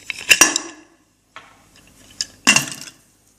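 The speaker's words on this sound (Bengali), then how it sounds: "আমার প্রেসার কুকারে মুখ লাগিয়ে দিয়েছি।" A pressure cooker lid being closed over a bowl, sharp metallic clanks and scrapes in two main bursts with quieter handling between them, close and fairly loud.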